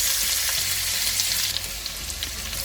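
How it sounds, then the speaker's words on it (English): Cumin seeds and finely chopped garlic sizzle in hot oil with a bright, crackling hiss that stays loud throughout and eases slightly near the end. "Once the oil is hot, I will add in cumin seeds, 6 garlic that have been chopped fine."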